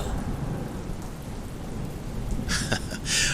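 Heavy rain pours steadily while thunder rumbles. A sharper crack bursts in near the end, and no one speaks.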